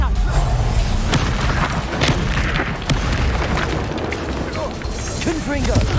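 Deep booming blasts from a Reducto spell explode in the fantasy video game Hogwarts Legacy, rumbling loudly and continuously with sharp pops and crackles over the top, while a voice is heard briefly.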